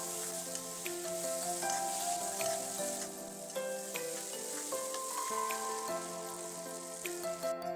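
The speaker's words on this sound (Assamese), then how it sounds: "আলুটো দি অলপ সময়ৰ বাবে ইয়াক কমেও 3 মিনিট মানৰ কাৰণে ইয়াক মই ভাজি লৈছোঁ" Potato pieces and tomatoes fry in a pan for a fish recipe, giving a continuous close sizzle with crackling pops over several seconds, alone with no talking.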